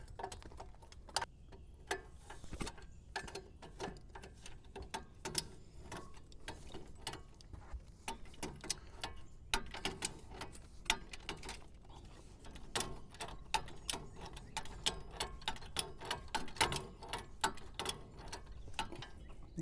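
A socket wrench ratchets in quick, repeated clicking bursts while an 18 mm socket loosens a ball joint nut on a Chevrolet 2500HD. The clicks are close but fairly quiet, and there is no talk.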